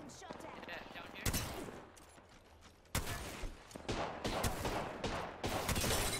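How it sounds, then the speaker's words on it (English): Bursts of video game gunfire in a battle royale match crack out sharply in several loud volleys, with a steady background of game ambience between them. "I'm getting shot at."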